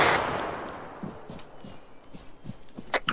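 Gunfire in a military shooter video game, heard as rapid bursts of shots and sharp cracks layered over a constant loud background rumble, with several close reports near the end.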